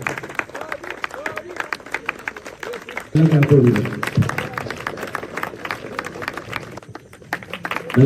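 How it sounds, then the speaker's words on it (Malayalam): Audience clapping at a prize ceremony for an anti-drug campaign football tournament, where the first runner-up receives an award. The clapping runs throughout, mixed with crowd noise and talk, and grows louder partway through. "ക്ലാപ്പ് കൊടുക്കുന്നത്"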